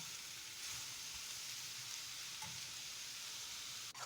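Mushrooms fry in a pan while being stirred, giving an even, close hiss of sizzling throughout and a brief scrape near the end.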